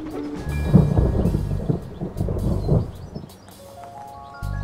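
Thunder rolls in two deep, loud rumbles over steady rain in a storm in an animated children's show, then fades to quieter rainfall with a faint tone at the end.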